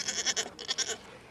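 Goats at a goat yoga class bleat in a quick run of short, nasal cries, several in a row, faint and somewhat distant with no talking.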